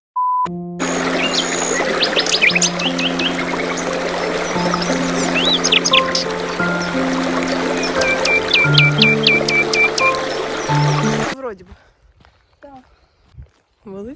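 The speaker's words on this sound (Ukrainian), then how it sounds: "Чуваєш, які пташки співають." Birdsong in the Carpathians: repeated chirps and short whistled calls over a steady outdoor background, with a sustained tonal hum underneath; it cuts off abruptly near the end, leaving brief faint sounds.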